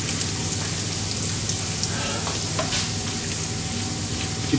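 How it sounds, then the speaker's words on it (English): Pine nuts browning in butter with ginger over low heat, giving a steady, dense sizzle with soft stirring scrapes, continuous and close throughout, no talking. "That's it, see the nuts browning now."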